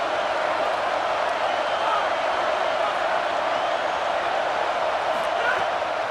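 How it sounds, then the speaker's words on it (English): A college football stadium crowd at a Kansas State versus Arkansas game roars in a dense, sustained wash of noise, steady and loud without breaks as fans try to rattle the offense. "This crowd trying to make life miserable for this offense."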